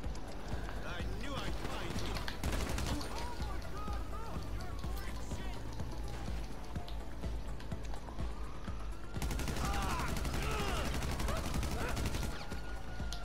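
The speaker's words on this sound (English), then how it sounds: "Look, I got ambushed by mechanics with fucking shotguns." Shotgun fire in GTA Online during a casino heist prep ambush: loud, dense bursts of in-game gunfire and action noise fill the clip, with the player talking over it.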